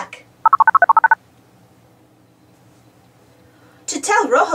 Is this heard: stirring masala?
no